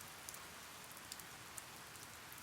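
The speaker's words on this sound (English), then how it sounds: "You're in the rain." Rain falls steadily in the video game Harvest Moon: Hero of Leaf Valley, a soft continuous hiss of droplets with occasional faint patters, quiet and even with no voices.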